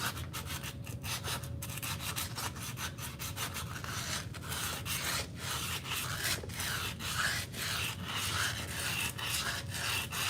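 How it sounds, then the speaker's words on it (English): Hand sanding of a part so a hub will seat correctly: a continuous, close scraping rub with repeated strokes, steady and fairly quiet, with no voices. "Sand this up really nice so we can have our hub seated correctly."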